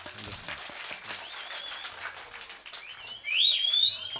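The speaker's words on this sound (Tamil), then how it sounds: "தம்பிக்கு ஒரு கைதட்டு கொடுக்கல எல்லாருமே" Audience applause for a young man at a Tamil stage drama (nadagam) performance: scattered crowd clapping with a shrill whistle near the end and faint voices underneath.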